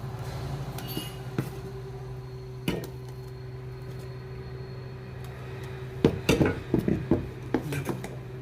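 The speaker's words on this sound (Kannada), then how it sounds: "ನಮಗೆ ಎಷ್ಟು ಬೇಕು ಅಷ್ಟು ದೋಸೆ ಹಿಟ್ಟು ಹಾಕ್ಕೊಂಡು ಮಿಕ್ಸ್ ಮಾಡ್ಕೊಳ್ಳೋಣ" Dosa batter is mixed in a bowl for tomato dosa, with a few faint early clinks, then a quick run of close, sharp knocks and scrapes of a spoon against the bowl near the end over a low steady hum.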